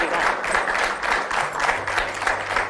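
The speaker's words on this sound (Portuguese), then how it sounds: "Um aplauso para ela." Studio audience applause rises in a sustained wave of clapping at a television talk show about living with lupus, with a voice speaking over the clapping.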